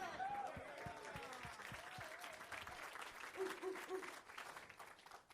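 An audience at a hackathon kick-off event claps, a dense patter of hands that continues for several seconds while a voice speaks over it.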